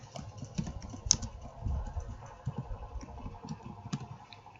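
Fingers type data into SPSS on a computer keyboard, a quiet, close run of irregular key clicks with one sharper tap partway through.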